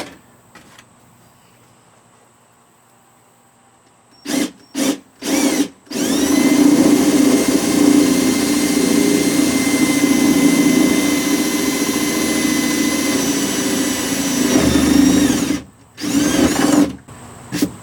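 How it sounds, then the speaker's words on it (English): A power drill with a half-inch bit whirs in a few short bursts, then runs steadily for about ten seconds boring through a boat's fiberglass transom, stops, and gives two more brief bursts. "it'll make a cleaner hole going in through the fiberglass that way"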